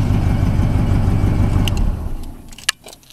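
A 1985 Oldsmobile Cutlass engine cold-starting at 10 degrees, a loud close rumbling run that drops off partway through, then a few sharp clicks and a jangle near the end.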